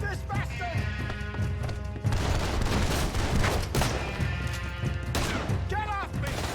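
A loud, chaotic gunfight in Red Dead Redemption 2, with repeated close gunshots and crashing impacts in rapid bursts, shouting voices mixed in among the shots.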